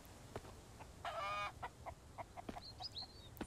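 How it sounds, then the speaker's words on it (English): A chicken in the survival video game Mist Survival clucks in short, repeated bursts, including one longer squawk, fairly faint over a quiet game background. "Shut up, chicken!"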